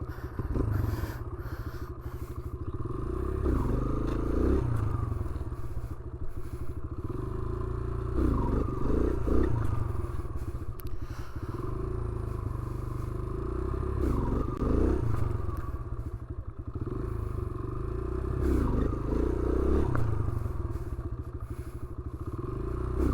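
Motorcycle engine revving through a wheelie attempt by a rider in boots on Long Island, New York, a steady loud drone with periodic surges as the throttle opens and eases across the clip.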